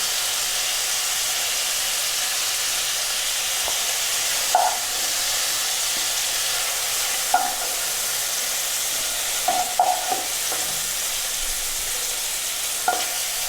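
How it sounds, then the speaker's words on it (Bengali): Cauliflower frying in a pan for a shol fish curry makes a steady close sizzle throughout, with occasional light clinks and scrapes of stirring and no voices. "আমার ফুলকপি প্রায় ভাজা হয়ে গেছে।"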